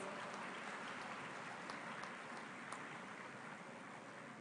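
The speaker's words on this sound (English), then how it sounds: "They deserve a big round of applause." Audience applause for alumni at a diamond jubilee celebration, a dense, steady wash of clapping from a large crowd that holds evenly throughout.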